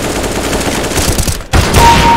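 Loud Counter-Strike: Global Offensive deathmatch gunfire, a dense run of rapid close shots with a brief gap near the end before firing resumes, no voices.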